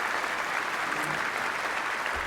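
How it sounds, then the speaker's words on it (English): Dense, steady applause from a large audience at the 2015 D.I.C.E. Awards video game awards show, a continuous close wash of clapping with no breaks. "One last big round of applause for all the winners and nominees in the final montage."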